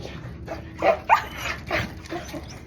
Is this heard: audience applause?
no